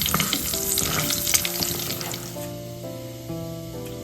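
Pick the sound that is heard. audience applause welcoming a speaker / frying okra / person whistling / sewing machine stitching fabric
frying okra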